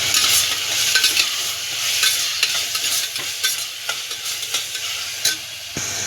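Boneless chicken, a quarter kilo, sizzles and fries in a pan while being stirred for a gravy, with steady crackling and repeated scraping stir strokes throughout, fairly close and with no talking.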